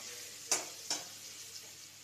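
Turmeric stirred into food frying in a pan on a gas stove, a soft, faint sizzle broken by two quick scraping strokes of a spoon.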